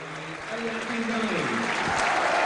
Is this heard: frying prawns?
no